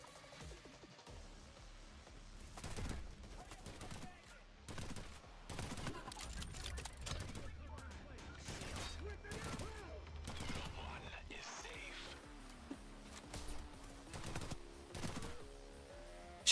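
Video game gunfire in Payday 3 includes shotgun blasts, heard as repeated sharp shots and short volleys spread across the clip with quieter stretches between them. Voices talk faintly in the background.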